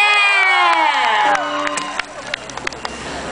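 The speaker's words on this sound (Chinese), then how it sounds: "请大家来以掌声欢迎维里安" Concert crowd cheering and whooping to welcome a singer on stage, a loud shrill swell of voices that gives way to scattered claps and calls.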